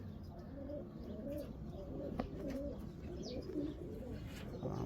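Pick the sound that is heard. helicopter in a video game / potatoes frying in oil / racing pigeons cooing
racing pigeons cooing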